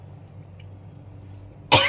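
A single sharp cough bursts out near the end after a quiet stretch of low background hum.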